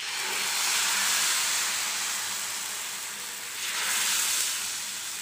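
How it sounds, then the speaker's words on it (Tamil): Dosa batter of wheat and rice flour sizzling on a hot griddle, a steady broadband hiss that swells and eases slightly, close and continuous with no talk. "இப்போ வந்து மாவை நம்ம சேர்த்துக்கலாம்."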